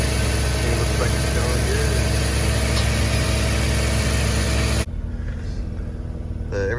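A Mazda RX-7 FC engine idles steadily and loudly for several seconds, then the sound drops sharply to a quieter, muffled hum near the end.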